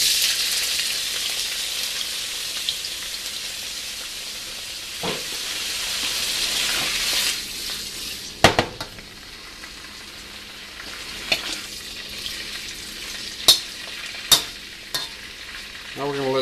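Tofu sizzles in oil heated to its smoke point with the burner lowered, a steady bright frying hiss broken by several sharp crackles and pops.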